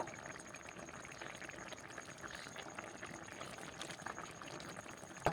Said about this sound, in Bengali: এবার আমি লো ফ্লেমে পনেরো মিনিট ধরে সেদ্ধ হতে দেবো